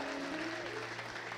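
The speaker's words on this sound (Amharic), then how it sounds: "አጨብጭቡ ለጌታ ክብር አምጣ" Applause from a church congregation during an Ethiopian prophetic service, a steady dense patter of many hands filling the room at moderate level, with a sustained voice or tone running underneath.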